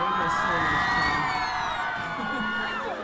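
A Comic Con crowd cheering and whooping loudly for guests and cosplayers, with continuous clapping and excited shouts blending into a dense, lively roar throughout.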